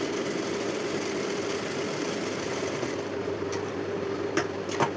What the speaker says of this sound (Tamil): ஒரு 1/2 இன்ச்சு விட்டு அப்படியே நேராக தையல் ஓட்டிக்கலாம்.